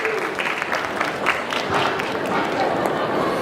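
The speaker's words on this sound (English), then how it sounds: "Round of applause for Marco." Audience applause for a diving center's PADI instructor at a panel discussion, a steady dense wash of clapping with some voices mixed in, holding evenly for a few seconds.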